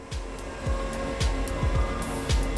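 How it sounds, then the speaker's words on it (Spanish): A dryer (heat gun style) blows hot air onto a laminate to soften and slightly melt the resin, giving a steady, loud motor whine and airflow with repeated low thumps and clatter in the background. "Los trabajadores usan un secador para elevar la temperatura del laminado y derretir un poco la resina."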